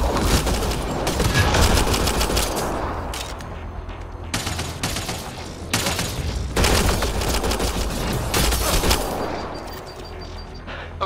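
Sustained heavy gunfire in Mass Effect Andromeda, dense overlapping bursts filling the whole stretch with brief pauses between volleys, loud and close.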